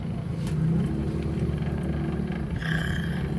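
Steady low engine rumble and road noise inside a car stuck in heavy traffic on the Skyway, continuous and close, with a brief higher whine near the end.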